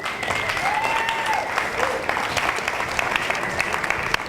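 Listeners clap for a speaker at the close of his talk, a close, steady wave of applause with a faint whistle riding over it and scattered sharp claps standing out.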